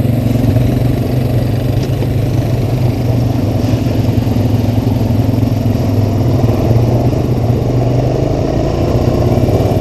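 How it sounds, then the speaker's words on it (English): A Kawasaki Mule utility vehicle pulls away along a dusty trail, its engine a loud, steady low rumble that holds evenly throughout with no pauses or other voices. "leaving with her Kawasaki mule"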